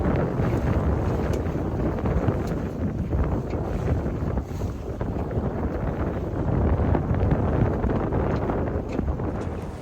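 A sailboat running under jib alone through rough water, with constant heavy wind buffeting the microphone and rushing water all around, loud and unbroken, with no voices.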